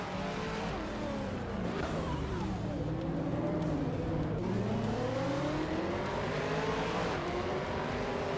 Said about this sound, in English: Gina Jones is driving a 2005 Infiniti G35 GT2